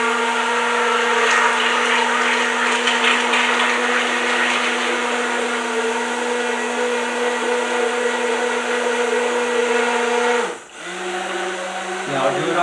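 A countertop blender runs steadily on an organic blueberry smoothie, a loud continuous motor whir with a strong hum that dips and shifts pitch near the end as the speed changes.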